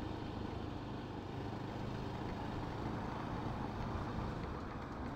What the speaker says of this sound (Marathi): मेन म्हणजे हा जे हेवी व्हेकल्स असतात त्यांच्यामुळे ट्रॅफिक असतं या रूटला